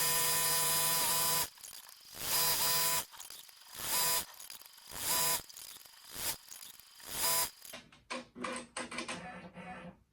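An embroidery machine stitches a design onto a small washcloth towel, running in several rapid mechanical bursts separated by short pauses, then ending with a quick flurry of sharp clicks.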